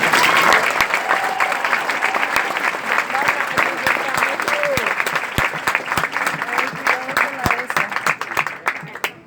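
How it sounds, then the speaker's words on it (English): Sustained applause from a large crowd at a Marine Corps graduation ceremony fills the space, dense and steady with a few sharper individual claps standing out, fading slightly at the end. "please join me in a round of applause for the company staff of Company K"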